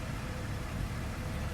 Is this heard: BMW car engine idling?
yes